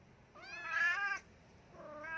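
A spider cat named Luna lets out a clear, close meow followed by a shorter, softer second meow, with no talking.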